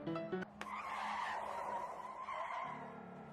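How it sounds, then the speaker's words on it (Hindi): Car braking suddenly with tyres skidding, a sustained screeching squeal lasting a few seconds after a brief sharp onset, loud and close as a sound effect. "पवन ने एक झटके से गाड़ी रोकी"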